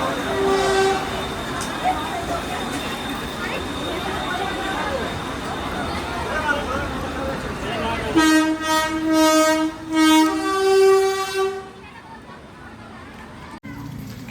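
A crowded railway station, with a train passing and rumbling under a wash of crowd noise and voices, followed by several loud, sustained train horn blasts near the end.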